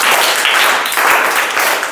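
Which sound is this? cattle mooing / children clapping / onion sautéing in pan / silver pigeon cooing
children clapping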